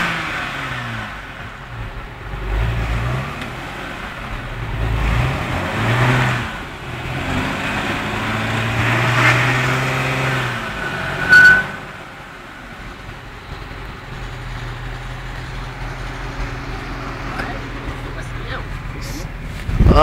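An Audi B4 Quattro with a 2.6 V6 revs repeatedly while struggling in mud, engine surging and falling in uneven bursts with wheelspin, and people talking and shouting over it throughout.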